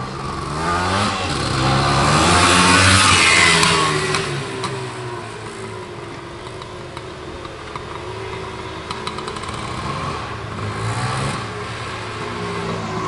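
A 1977 Suzuki PE250B two-stroke vintage dual sport motorcycle revs up and settles, its buzzing engine swelling loud then holding at a lower, steady pitch.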